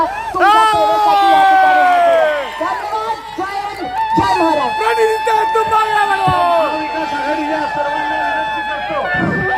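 Crowd at a Solapur political rally for Maha Vikas Aghadi candidate Praniti Shinde's nomination: loud, continuous cheering and whooping with rising and falling shrill calls, sustained across the whole stretch amid crowd noise.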